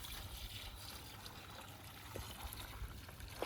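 Pre-measured warm water poured for mixing BoraCare wood treatment, a faint steady trickle and splash of liquid running continuously at close range with a few small knocks.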